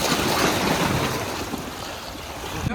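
Ocean waves wash and splash near a waterfront promenade on a windy day, a steady broadband rush with wind buffeting the microphone throughout, no voices.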